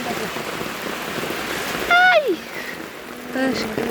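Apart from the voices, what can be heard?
heavy rain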